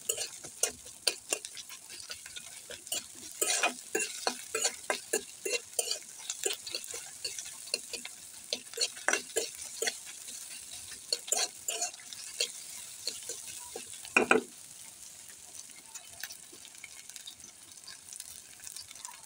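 Chopped onion, garlic and dried chili frying in mustard oil, a steady sizzle punctuated by frequent scraping and clinking strokes of a spatula against the pan, with one louder clatter partway through.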